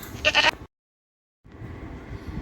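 A single short bleat from a small Canadian Pygmy goat, close and fairly loud, followed by a brief silence and then low background noise.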